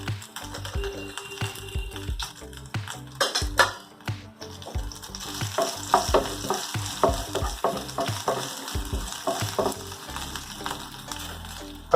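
Green peas, sweet corn and grated carrot being stir-fried in a pan after a tempering of mint, ginger and green chillies for corn rice, with steady sizzling and repeated scraping, clattering stirring strokes, close and fairly loud.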